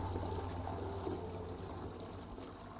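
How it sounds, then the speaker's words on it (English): Toilet being flushed in a horror video game, a steady rushing, gurgling water sound heard alone at low level throughout. "we just keep flushing the toilet?"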